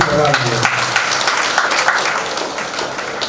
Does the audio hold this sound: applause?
yes